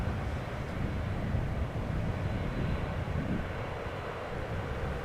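An airliner at Amsterdam Schiphol airport produces a steady, broad jet-engine roar that stays loud and even throughout, with some wind noise buffeting the microphone.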